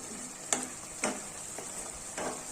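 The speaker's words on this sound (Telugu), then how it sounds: "దీన్ని ఇలా 1 నిమిషం కలుపుకొని" Chopped vegetables for semiya upma are stirred in a pan over a quiet, steady sizzle, with four soft, evenly spaced scrapes of the spoon close by.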